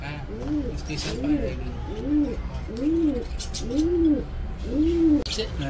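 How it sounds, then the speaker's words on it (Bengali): Pigeons coo about six times in a steady, evenly spaced rhythm, each a rounded, swelling call, heard close over a soft outdoor background at Prantik Retreat in Deulti during a winter day outing. "পায়রা নাকি?"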